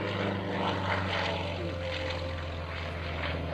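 A Yak 55 aerobatic propeller plane performs at an air force base open house, its engine droning steadily and loudly with a buzzing, harmonic propeller tone throughout.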